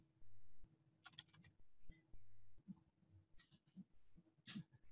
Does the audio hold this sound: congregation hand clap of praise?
no